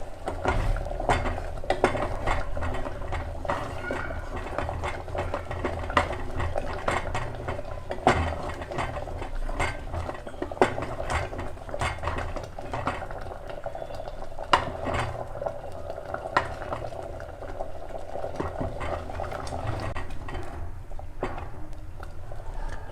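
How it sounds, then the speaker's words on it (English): Chicken soup is stirred in a pot, with repeated close spoon scrapes and metallic clinks over a low simmering bubble. No voices. "Every 1-2 minutes you have to stir it."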